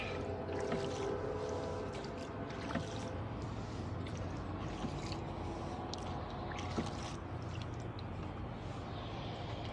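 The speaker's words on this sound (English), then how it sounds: "Oh, it's a tugboat over there on the far side." Big tugboat motor on the Oakland Estuary, a steady low engine drone across the water with broadband wash and hiss, continuous and fairly loud throughout, no talking.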